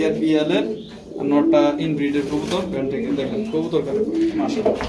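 Long-distance breeder pigeons at a farm coo in soft, repeated throaty phrases close by, mixed with people talking.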